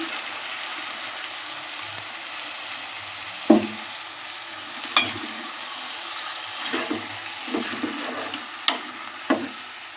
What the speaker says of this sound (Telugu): మనం శుభ్రం చేసి పెట్టుకున్న చికెన్ ముక్కలు అయితే వేసేసుకోవాలి